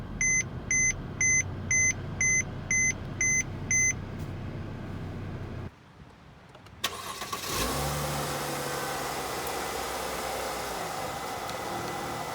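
A 2012 Mercedes-Benz C300 with a 3-liter V6 starts up: a series of regular chimes from the instrument panel, a brief pause, then the starter cranks and the engine catches into a steady, close idle.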